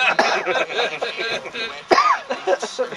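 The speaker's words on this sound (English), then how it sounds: "Well, you started coughing." A person coughs and clears their throat in a series of rough, uneven bursts at close range, mixed with chuckling and voices talking.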